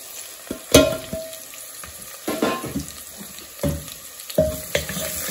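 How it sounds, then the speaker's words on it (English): Spices such as garam masala and turmeric fry with onions and goat meat in a pan. Several loud bursts of sizzling and stirring scrapes stand out over a lower background hiss. "now I'm gonna add all this other spices: garam masala, turmeric powder,"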